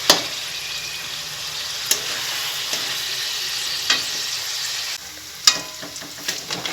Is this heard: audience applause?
no